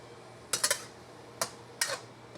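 A utensil clinks and scrapes against a pot while ginger and garlic are mixed together, a quick cluster of three metallic taps followed by two more separate knocks in a quiet kitchen.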